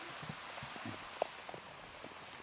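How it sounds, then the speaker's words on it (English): Steady light rain falls during an outdoor T10 cricket match in Austria, a soft even hiss with scattered drops and one sharp tap, quiet and without talk. "The rain, by the way, is persistent, but getting a little bit heavier."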